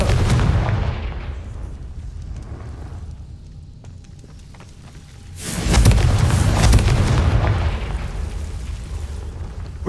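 Confringo explosive spell cast in the video game Hogwarts Legacy, a loud booming blast that rumbles and fades, then a second heavy burst with a long rumbling tail.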